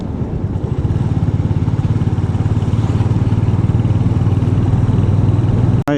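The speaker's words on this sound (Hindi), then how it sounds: "बाइकर गैंग जा रहा है भाई, बाइकर गैंग।" A group of motorcycles rumbles past on a mountain road ride in Himachal's Kinnaur region, a loud, steady engine drone with a throbbing pulse that holds for about six seconds before cutting off abruptly.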